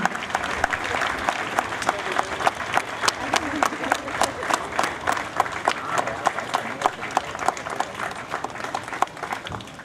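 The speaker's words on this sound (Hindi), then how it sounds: "जी हाँ, पुनः जोरदार तालियां" An audience applauds loudly at an Independence Day ceremony at the Banaras Rail Engine Factory in Varanasi, dense clapping running steadily throughout with a few sharper individual claps standing out.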